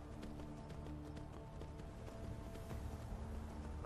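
Horse hooves in Skyrim drum in a quick, steady galloping rhythm, faint and low in level against a dense background of game ambience, with no voice heard.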